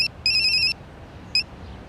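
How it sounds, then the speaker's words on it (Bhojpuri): A telephone rings in a domestic drama scene with short, bright electronic trills: a brief burst, a longer ring, and then another brief burst, loud and clear over quiet room tone without talk. "अरे फोन आइल बा, उठाई।"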